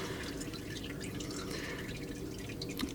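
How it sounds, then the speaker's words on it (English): Used engine oil from a Mazda CX-9 with the 2.5 turbo spills and drips steadily into a drain pan. The liquid patter is close, continuous and fairly quiet, with no talking. "there it starts spilling out into my pan"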